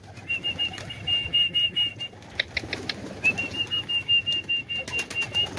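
Young pigeons take flight, their wings flapping in quick bursts of rhythmic beats, fairly close, with a thin whistling tone running through parts of the flight.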